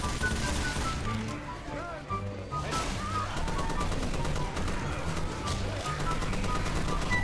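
Rapid gunfire from Left 4 Dead, bursts of shots rattling continuously through a busy game mix, with a voice talking over parts of it.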